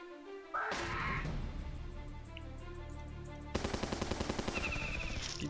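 Turrets and tanks open fire in the mobile strategy game Battle Nations, a dense volley of bangs followed by a rapid, evenly spaced burst of shots, loud and close with no talking.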